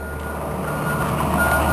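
A truck reverses at a dig site, its loud, steady backup beeper repeating over the rumble of the engine, with no talking heard.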